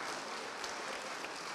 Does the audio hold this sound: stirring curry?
no